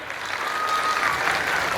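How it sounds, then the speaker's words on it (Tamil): Steady audience applause at a book festival stage event, a dense continuous patter of many hands clapping throughout. "நல்லா கைத்தட்டு."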